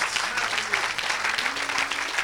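Church congregation applauding during a Sunday worship service, dense sustained clapping close by with voices mixed in throughout.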